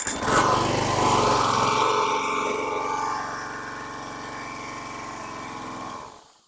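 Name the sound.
junk lawn mower engine running on half choke, then stalling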